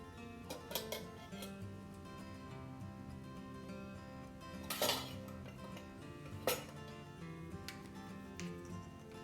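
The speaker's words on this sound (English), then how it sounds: "So I'm just going to go ahead and mix everything in." Dry crumble ingredients, flour among them, being stirred in a bowl that is slightly too small, giving faint scraping and light clinks of a utensil against the bowl, with a few sharper knocks spaced through it and no talking.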